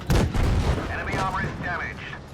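Tank gun shots in World of Tanks Blitz from a Vickers Light, a loud booming blast at the start with rumbling echoes, followed by whooshing in-game effects and a voice talking.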